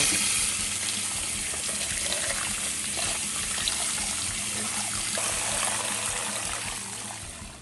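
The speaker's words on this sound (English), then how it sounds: "I'm going to clean them again now that they've been peeled" Tap water runs steadily into a sink as peeled shrimp are rinsed in a bowl during meal prep, a continuous, fairly loud splashing flow with no voices.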